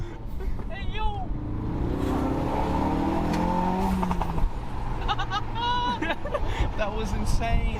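A widebody Audi RS making over 500 horsepower slides sideways on Australian streets, its engine roaring steadily and close through loud excited talking and shouting from occupants.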